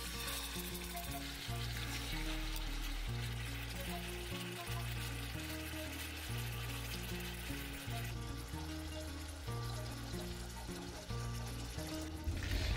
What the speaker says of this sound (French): On va commencer par frire la viande.